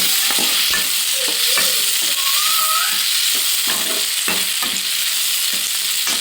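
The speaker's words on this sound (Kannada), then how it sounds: "ಫ್ರೈ ಮಾಡ್ಕೊತಾ ಇದ್ದೀನಿ" Browned onion, tomato and coconut frying together in a pan for sprouted-bean sambar, a loud steady sizzle broken by regular scraping stirs of a spoon, close up and without voices.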